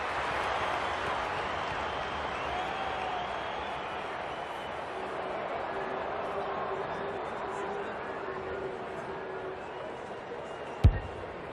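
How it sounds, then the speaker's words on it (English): A stadium crowd at an AFL football match keeps up a steady, dense roar for the whole stretch, then a single sharp thump lands near the end. "The crowd noise tells you all you need to know"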